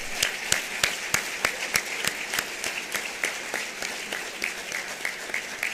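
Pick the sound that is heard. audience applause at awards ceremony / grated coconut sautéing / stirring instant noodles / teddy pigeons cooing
audience applause at awards ceremony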